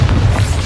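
Bombarda spell explosion in Hogwarts Legacy, a brief loud low boom with a rumbling body, heard alone.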